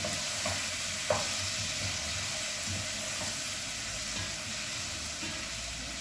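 Garlic and ginger fry in a pan with a constant bright sizzle, a few sharp scrapes and knocks as they are stirred, close by and with no voices.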